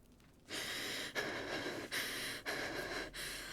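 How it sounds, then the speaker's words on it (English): A character in the video game Baldur's Gate III pants heavily in a steady rhythm of about five drawn-out, breathy gasps, each separated by a short pause, at a fairly quiet level. "you don't have to be so very loud and panting"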